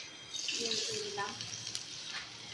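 Garlic cloves dropped into hot oil for a magur catfish curry, giving a steady bright sizzle that runs throughout, close and moderately loud, with a voice speaking briefly over the frying.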